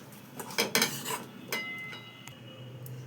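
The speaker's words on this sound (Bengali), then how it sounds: "বেশ খানিকটা সর্ষের তেল দিয়ে দিচ্ছি, দিয়ে এবার এটাকে ভালো করে মেখে নেব।" Vegetables being mixed with mustard oil in a bowl, a few light clinks and scrapes of a utensil against the bowl in quick irregular bursts, faint and close, with no talking.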